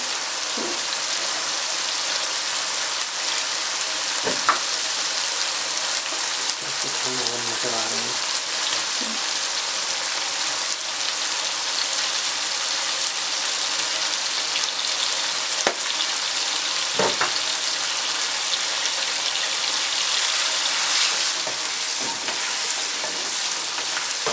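Koftas and green chillies cook in a pan, a steady soft sizzle of frying with occasional light clinks of a spoon stirring, continuous and moderately quiet.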